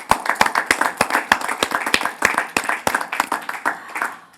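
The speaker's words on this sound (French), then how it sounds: "On s'applaudit bien fort." A studio audience claps steadily through a French TV culture and heritage program, with dense, fairly loud rhythmic hand claps and no talking over them.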